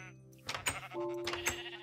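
Sheep in the Minecraft video game bleat in a couple of short wavering calls over steady game background sound, fairly close.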